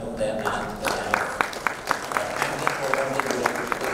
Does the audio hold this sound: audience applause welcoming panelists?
yes